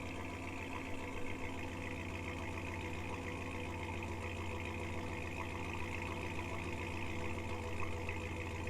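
A Ram Rebel pickup fitted with a Corsa Extreme catback exhaust idles steadily, a low, constant rumble with a mechanical tick running under it, close and even throughout.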